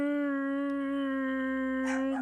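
A dog howls in a single long, steady, wavering tone from a Biomutant video game, loud and close, with a brief rougher burst near the end and no talk over it.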